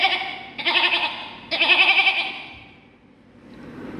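Two loud, wavering goat bleats from a person imitating a goat in a mimicry contest, close and back to back. They fade into a quiet hiss with no talk.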